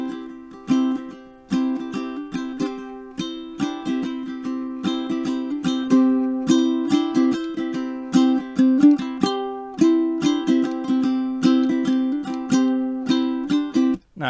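Ukulele strums a sustained chord accompaniment while a plucked riff of single notes weaves through it, a steady bright rhythmic pattern of close, ringing strings lasting throughout with no voices.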